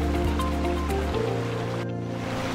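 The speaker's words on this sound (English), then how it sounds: "Finally, the waterfalls!" Adams Canyon Falls, a waterfall dropping about 40 feet, gives a steady, dense rush of falling water that continues without a break through the whole moment.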